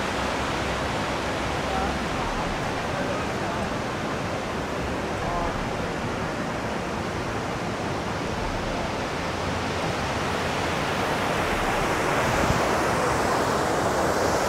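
Dassam Falls waterfall in Jharkhand, seen from the bottom, a dense, steady rushing roar of falling water, loud and unbroken throughout.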